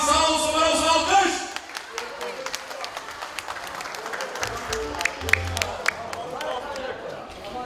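Guests at a wedding break into applause. Loud music with singing fades out, then scattered, lively claps and crowd murmur carry on under a voice.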